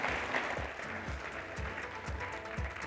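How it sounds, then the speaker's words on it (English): Faint applause from a conference stage audience ripples on steadily in the distance, with soft thumps pulsing underneath. "please give Angela a very big applause."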